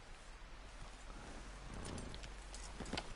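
Horse hooves clip-clop in the Western video game Red Dead Redemption 2: a soft run of hoof steps, louder toward the end, over a steady ambient bed.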